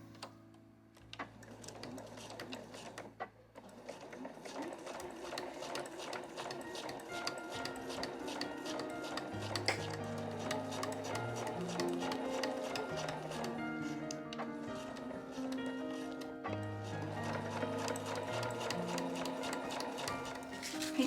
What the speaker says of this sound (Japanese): そしたら両脇を 5mm で縫います。